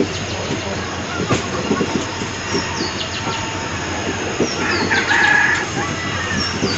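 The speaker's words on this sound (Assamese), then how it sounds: "ট্ৰেইন এৰি দিলে।" The Nagaland Express pulls out of a small station in Assam with a steady, loud rolling rumble and rattling carriages throughout, and a rooster crowing faintly in the background.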